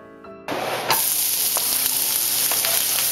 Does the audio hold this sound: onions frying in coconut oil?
yes